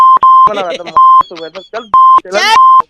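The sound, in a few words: phone call disconnect beep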